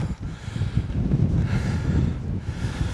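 Strong wind buffeting the microphone on a seaside hilltop, a loud continuous low rumble with gusty swells throughout and no voices.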